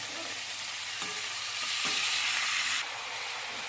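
Spinach leaves hit a hot pan with fried fish, giving a bright, steady sizzle that swells in the middle and then eases, with a few soft stirring knocks, close and uninterrupted by voices.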